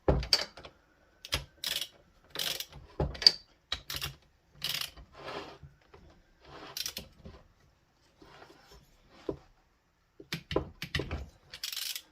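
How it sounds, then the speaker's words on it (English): Head bolts on a Predator 212 engine being snugged down with a ratchet, heard as short bursts of rapid clicking separated by pauses, close and fairly quiet in an otherwise still room. "I'll try to get them all snug first before I go ahead and torque them"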